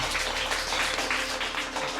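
Applause during a ceremony scene in a TV drama, a steady wash of many hands clapping throughout at moderate loudness with no speech over it.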